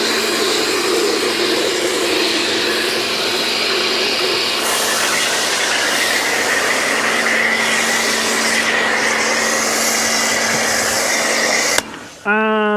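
Air blower drying a Volvo XC60 after a wash, a loud continuous whooshing roar that shifts in pitch, with a brief voice heard before it cuts out near the end.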